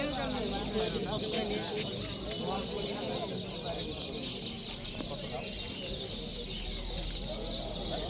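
Pigeons and other fowl at a busy pet bird market in Birnagar, with scattered calls and clucks buried in a dense crowd hubbub and continuous talk throughout.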